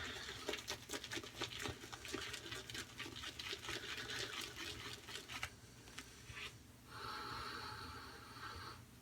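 A shaving brush loads a puck of Le Petit Chypre shaving soap, with a fast wet swirling patter of bristles close by, then a brief pause and a softer, steadier frothy swishing.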